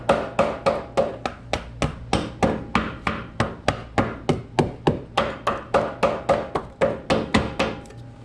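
A hammer pounds repeatedly on cardboard, a dull surface, with quick, evenly spaced thuds about three per second, close up and unbroken.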